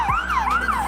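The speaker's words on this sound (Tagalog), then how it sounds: "ambulansya." An ambulance siren wails in traffic on EDSA, a loud, close, rising-and-falling tone heard alone for under a second.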